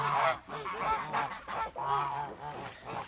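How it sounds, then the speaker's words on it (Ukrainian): Young Kholmogory geese, a few months old, honk repeatedly near at hand, several overlapping nasal calls rising and falling in short bursts with no voices among them. "Ось такі-то наші гусята."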